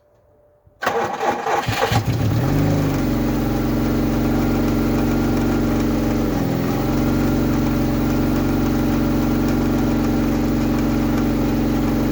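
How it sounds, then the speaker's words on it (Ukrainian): A VAZ-2111 car with a 16-valve fuel-injected engine cranks briefly and fires up after a crankshaft sensor replacement, then settles into a steady, loud, even idle that runs on with no voices. "Заводимо машину."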